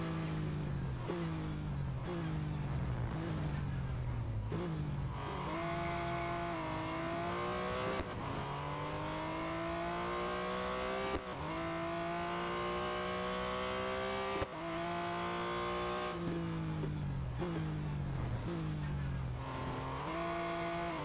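A 1970 Porsche 917K race car in Real Racing 3 roars at full throttle, its engine note climbing steadily and dropping sharply at each gear change, loud, close and continuous with no voices.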